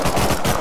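Rapid automatic gunfire from a video game firefight, loud and close, a steady burst of repeated shots with no talking.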